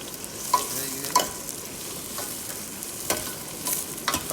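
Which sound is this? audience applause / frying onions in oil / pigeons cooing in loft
frying onions in oil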